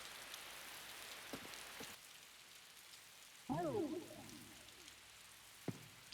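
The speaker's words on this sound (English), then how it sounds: "Is it always raining in Kanai Ward?" Steady rain falls throughout a rainy city scene in the video game Master Detective Archives, a soft continuous hiss with a few brief louder sounds over it.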